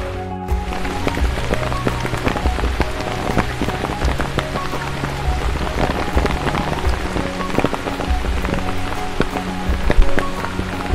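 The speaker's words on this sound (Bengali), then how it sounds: "আজ সকাল থেকেই বৃষ্টি পড়ছে।" Heavy rain pouring onto a waterlogged road on a rainy morning, a dense, steady, close patter of drops with no voices.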